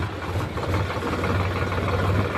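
A tractor engine idles steadily near a pond, a continuous low rumble with a mid-pitched chug and no talking.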